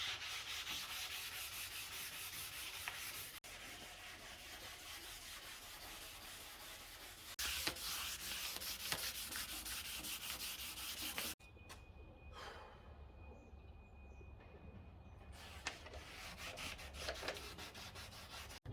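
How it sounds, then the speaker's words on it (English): Sanding a carbon fiber rear diffuser for a 2010 Audi B8 S4, close continuous abrasive rubbing strokes in long steady runs, briefly pausing and shifting tone, with no talking. "did a lot of sanding and this is now how it looks"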